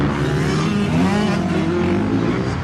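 Supercross motorcycles in the 175cc four-stroke class race at the Gajaba Supercross, a dense, continuous high-revving engine roar with rising and falling pitch as bikes pass close by.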